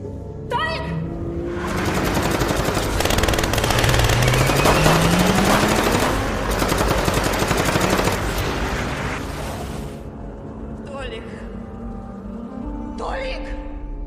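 Sustained automatic gunfire rattles through a violent cartel shootout in an action film, loud dense bursts building and holding for several seconds before tapering off, with voices and other film sound around it.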